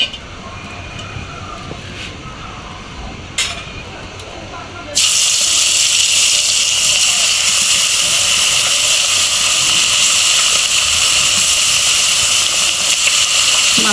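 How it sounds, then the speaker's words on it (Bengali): Fish lightly frying in a generous amount of hot oil in a wok, a loud steady sizzle that begins abruptly partway through and holds evenly, preceded by quieter kitchen sounds with a couple of sharp clicks. "আমি মাছগুলো হালকা ভেজে নেব"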